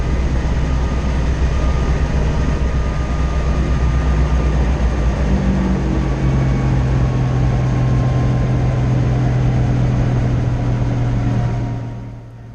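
A Bell 47 helicopter engine idling after touchdown, a steady loud droning hum with low rumble and a faint high whine, holding constant before dropping away at the end, no voices.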